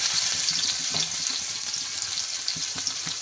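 Onion, garlic and whole dried chillies fry in a pan of hot oil, a steady close sizzle with occasional stirring scrapes and soft pops, no voices.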